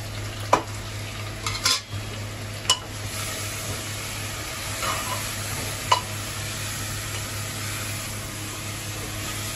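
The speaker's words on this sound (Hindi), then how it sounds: "तो जी चिकन देखिए अच्छे से भून चुका है" Chicken fried in a pan with turmeric, red chili, salt, homemade masala and dried fenugreek, a low continuous sizzle broken by occasional sharp clinks of a spoon against the pan, no talking.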